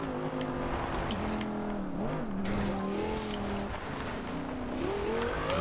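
Engine of a 2013 Audi R8 with all-wheel drive in Forza Horizon 2, driven over gravel: a steady, loud revving drone that climbs and dips through gear changes, with faint tire noise and no talk.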